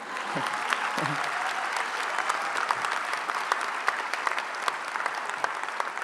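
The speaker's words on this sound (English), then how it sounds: "you can give them a round of applause now, too, if you'd like" A commencement audience gives a round of applause, a continuous even clapping from a large crowd heard at a distance, with a couple of low thumps near the start and no speech over it.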